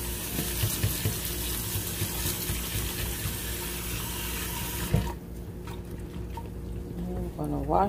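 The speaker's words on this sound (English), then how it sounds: "I'm gonna wash these grits off." Water runs steadily from a kitchen tap while grits are washed under it. The stream flows loudly for about five seconds, then drops to quieter splashing and trickling with small clinks near the end.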